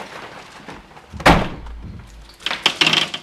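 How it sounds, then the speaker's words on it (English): A house door is pushed shut on a rainy day, landing with a single solid thunk a little past the first second. Softer rattling and handling sounds follow, with steady rain noise in the background. "And with that, I shall close this door."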